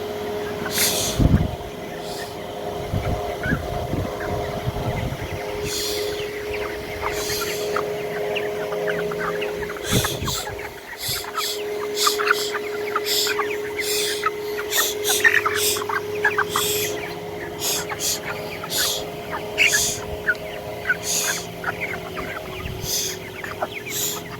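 Broiler chickens on a farm during intense heat cluck intermittently over a steady hum of farm machinery, with scattered short calls throughout and no one speaking.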